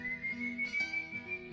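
A son whistles a sustained, steady tune in a story, a clear, fairly close single-pitched whistle that holds and wavers slightly over a low background hum.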